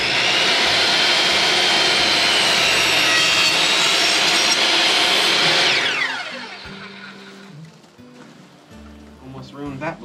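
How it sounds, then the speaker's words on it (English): A saw rips loudly through wooden 2x4 studs for about six seconds, then the blade winds down and stops. People talk quietly during the cut and afterward. "So we're gonna cut 2 boards, I guess. 2 studs."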